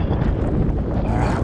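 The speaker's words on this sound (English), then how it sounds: "Oh, it's so windy." Strong wind buffets the microphone at a jetty by the sea, a loud, continuous low roar with gusty rumbling throughout and no talking.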